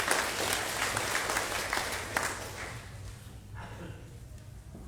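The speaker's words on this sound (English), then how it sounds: "Please join me in congratulating each recipient with a big round of applause." An audience at an Australia Day awards and citizenship ceremony applauds the award recipients, steady clapping from a crowd that gradually thins and fades over a few seconds.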